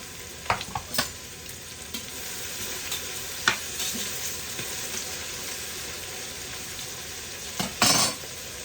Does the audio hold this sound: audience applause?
no